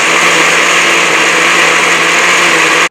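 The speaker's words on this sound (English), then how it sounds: "disturb the peaceful morning by turning on your blender" A blender churns shredded paper soaked in water, a steady, loud high-pitched whir that holds evenly for a few seconds and then cuts off abruptly.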